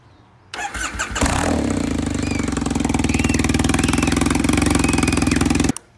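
A Triumph Bonneville motorcycle cranks briefly, catches and settles into a loud, steady, close-up idle with an even pulsing beat, then cuts off abruptly.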